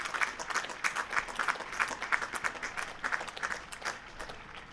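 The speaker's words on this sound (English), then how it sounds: "You can hear the round of applause." A cricket crowd at a county championship match between Durham and Northamptonshire claps steadily for a milestone of 400 runs, a scattered, moderately distant patter of many hands sustained throughout with no talk.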